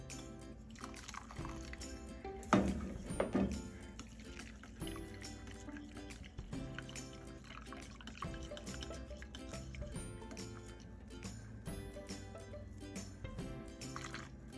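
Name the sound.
warm milk poured slowly and whisked into rice pudding mixture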